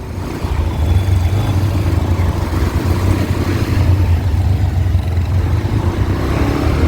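A car engine runs with a steady, close, low rumble while a learner driver shifts gears, droning evenly without clear revs or voices.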